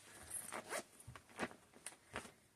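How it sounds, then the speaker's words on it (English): Close and faint, zippers on cross stitch project bags rasp open in several short bursts, mixed with the crinkling of plastic bag material, each sound separated by brief quiet gaps. "Sorry for the crinkling. And the zippers."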